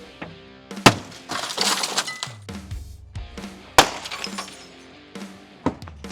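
Tempered glass smashes during the demolition of a vacant shopping center in Naples, with several sharp crashes and tinkling shards in separate bursts spread over a few seconds, loud and fairly close.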